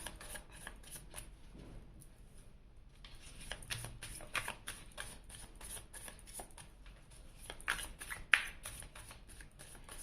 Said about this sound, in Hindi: और अब मैं आपके पर्सन के लिए भी कार्ड सिलेक्ट कर लेती हूँ।